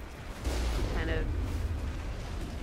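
Mako tank cannon fire in Mass Effect at a Geth base in the Armstrong Nebula, a deep booming burst with low rumble that sustains through the clip, with a voice talking faintly.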